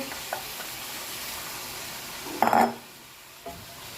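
Squash and mung beans cooking in a pan, stirred with a steady low bubbling simmer and one short, louder scraping stir near the middle, followed by a faint knock, with no talking.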